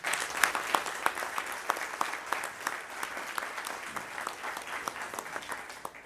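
A union congress audience at the founding CGT Champagne-Ardenne Lorraine congress applauds the organisers, producing a sustained, fairly distant patter of many clapping hands with some sharper individual claps, fading slightly at the end.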